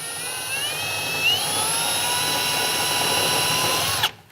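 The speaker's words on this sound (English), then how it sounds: "change out to a pilot bit and drill the pilot holes from underneath" A power drill fitted with a pilot bit bores pilot holes from underneath a metal truck bed, a steady high whine with rising pitch that runs continuously before stopping abruptly.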